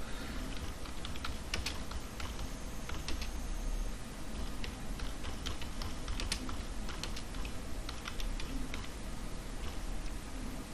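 Rapid, steady clicking of computer keyboard keys while AT commands are entered for an ESP8266 WiFi module, continuous close key taps with no talking.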